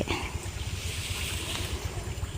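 Water pumped for a corn field rushes quickly down a steep slope, a steady, loud, broadband whoosh with a low churning rumble and no breaks.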